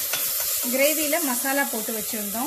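Ginger garlic paste sautés with onions in a pan for a mushroom gravy, giving a steady soft sizzle and frying hiss beneath a person speaking throughout.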